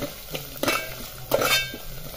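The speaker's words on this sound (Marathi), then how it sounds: "आणि हे आता हलवून घ्यायचे, फोडणी चांगली परतून द्यायची।" Metal spoon scraping and clinking in a pan while stirring a tempering with garam masala, a few soft taps and scrapes over faint sizzling background.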